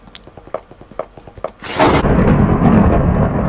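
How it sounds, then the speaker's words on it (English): Thunder from a Minecraft thunderstorm, a sudden loud rumbling crash that swells and rolls on after a few sharp game clicks and footsteps. "So, gonna be hearing a lot of thunder and lightning."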